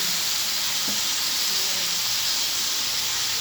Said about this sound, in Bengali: এবারে আমটাকে ভেজে নিয়ে নেবে